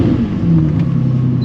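A Lamborghini Murcielago with a six-speed gated shifter pulls away, its engine note swelling in a steady, loud drone close by with no talking over it.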